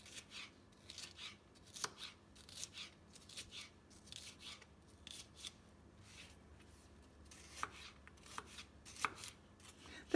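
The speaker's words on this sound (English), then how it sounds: "I'm just going to thinly slice these peppers up" A knife slices peppers thinly on a cutting board in quick, regular strokes, with faint close cuts repeating in bursts and short pauses between runs.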